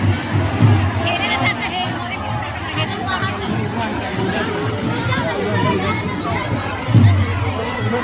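Dense crowd chatter fills the grounds of the Kanti Kothiya Mazar Sharif shrine in Bihar, a steady hubbub of many voices with occasional children shouting, close and continuous, while someone talks over it.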